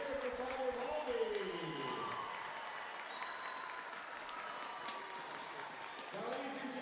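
A crowd in a school gym at a boys' basketball classic applauds Father Baldy, a fairly distant, steady clapping wash beneath a voice on the public address system.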